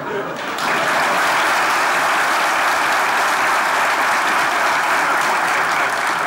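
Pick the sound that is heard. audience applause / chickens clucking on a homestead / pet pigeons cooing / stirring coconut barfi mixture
audience applause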